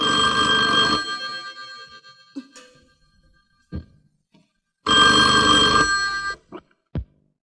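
Two long bursts of a loud telephone bell ringing, separated by a pause, with brief knocks and clatter in between, at a hospital.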